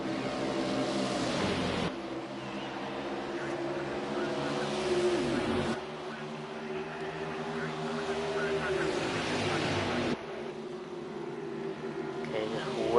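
A pack of stock cars in a racing video game set at Texas, engines roaring together at the start of the race, a loud continuous drone whose pitch rises and falls as the cars shift and accelerate.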